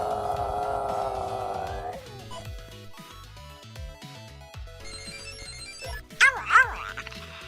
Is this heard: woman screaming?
no